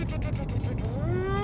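A voice mimics a car's turbo spooling up, a rising whine that climbs steadily over about half a second near the end, over a loud, close rumble of background noise.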